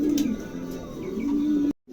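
A pigeon in a new cage gives low, throaty coos in repeated swells, close and clear, before the sound cuts off abruptly near the end.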